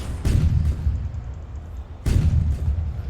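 Two booming tank cannon shots from the online tank game Tanki Online, each a sharp blast followed by a rumbling low decay, spaced about two seconds apart and heard alone.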